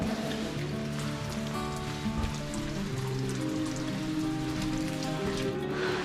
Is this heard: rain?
yes